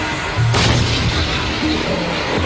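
An M1 Abrams tank main gun firing, one heavy deep boom with a sharp onset that rolls into a long rumbling decay, loud and close.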